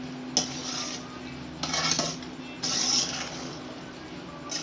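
Pasta being stirred in a pan: a few quiet, rasping scrapes and a light clink of a utensil against metal in short bursts, with no talk.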